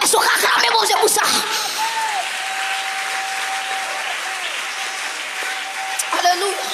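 A church congregation claps and cheers together, a dense, steady wall of applause that carries on at even strength throughout, with voices rising over it at the start and again near the end.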